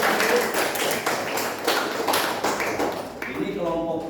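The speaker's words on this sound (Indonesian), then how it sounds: "Sekali lagi tepuk tangan." A primary school class in Indonesia claps hands together, producing a dense, rapid patter of applause that runs steadily and fades near the end, with voices heard over it.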